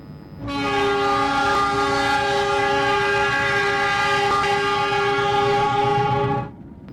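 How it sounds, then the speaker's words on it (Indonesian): A loud, sustained train horn sounding signal 35 in the RSKC railway simulator game, one steady multi-tone blast lasting about six seconds that begins abruptly and ends sharply, heard alone. "semboyan 35 dibunyikan"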